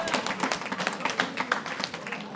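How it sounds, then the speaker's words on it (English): An audience claps at a youth AI hackathon awards ceremony, dense and steady applause with sharp individual claps close by and no voices over it. "Clap it up"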